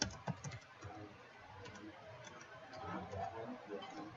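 Keys tapped on a computer keyboard while a user name is entered during a Windows lab exercise on NTFS and share permissions, giving a quiet, irregular patter of soft clicks over faint room noise.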